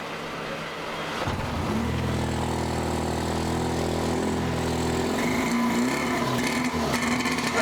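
A 1957 British motorcycle engine on a rolling road catches after about a second and settles into a steady, loud running drone, rising slightly in revs before idling on, close and continuous.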